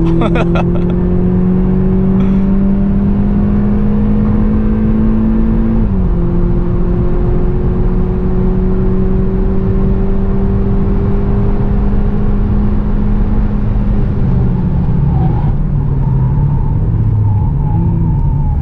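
A VW Polo GTI laps the Nürburgring Grand Prix circuit in traffic, its engine droning steadily with loud in-cabin road roar and rising and falling revs during gear changes.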